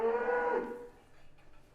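Dairy cows on a farm give a single drawn-out moo, fairly close and moderately loud, fading into quiet rustling field ambience.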